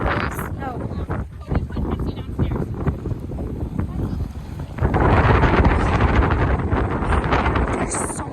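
Strong wind buffets a boat on open water with current, roaring across the microphone in heavy gusts that swell louder midway, while people talk over it.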